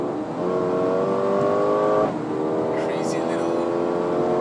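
A Mercedes-AMG A35 sedan engine holds a steady, loud rev, then drops briefly and climbs again in a strained, harmonic drone, heard close with a voice speaking over it.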